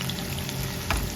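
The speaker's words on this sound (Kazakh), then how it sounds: "Жаңағы пиязымызды салып, кішкене қуырып алғаннан кейін" Chopped onion frying in heated oil in a pan, a steady close sizzle with faint stirring noises and a brief scrape near the end.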